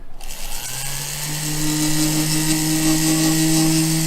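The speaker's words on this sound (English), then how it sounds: "I'm going to drill a hole in the center." A power drill spins up and runs at a steady whine, close and loud, after a brief clatter at the start.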